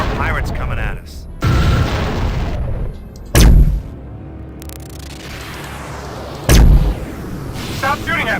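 Pirate ships firing on the player's craft in the space combat game Tachyon: The Fringe: three heavy, booming blasts land loud and close at irregular intervals, separated by rumbling engine and ambient noise, with a voice speaking in between.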